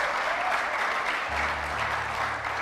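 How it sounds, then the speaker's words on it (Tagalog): A church congregation claps together in worship, a full, continuous wash of applause, with a low sustained organ or keyboard tone entering partway through. "Tuloy natin yung palakpak sa Panginoon."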